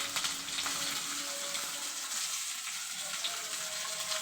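Dried red chilies frying in hot mustard oil alongside pointed gourd, giving a continuous, fairly soft sizzle with faint stirring clicks and no voices.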